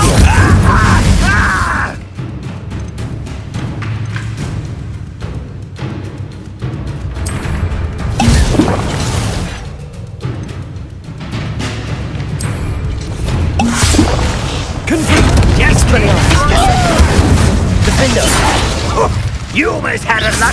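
Fire spell combat in a Harry Potter video game: bursts of whooshing flame, booms and crashing impacts, dense and loud, with a voice calling out spells over the effects.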